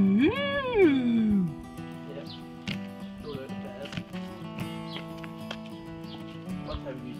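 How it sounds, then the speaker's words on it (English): Cows lowing just outside a window at a farm near Severac during a motorcycle tour, one loud drawn-out moo at the start followed by quieter farmyard sounds and faint background noise. "There's the moos right out our window."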